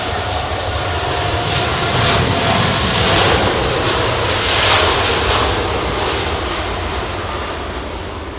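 Jet airliner engines at London Heathrow on a windy day, running at derated thrust into a headwind, produce a loud, swelling roar that peaks midway and slowly fades, with no voices.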